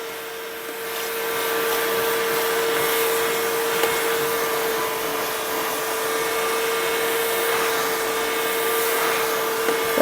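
Bissell Little Green ProHeat portable carpet cleaner running steadily, its motor whining with a hum as it suctions soapy solution from a mattress, continuous and close throughout.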